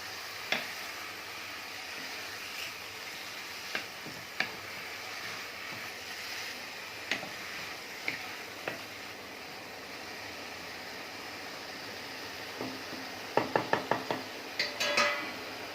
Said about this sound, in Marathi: कीस घातल्यानंतर छान याच्यामध्ये परतून घ्यायचं आहे